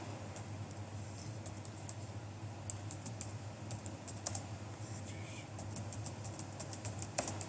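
Quiet keystrokes on a computer keyboard at a workstation, soft irregular clicks in short bursts over a steady low hum, fairly faint and without speech.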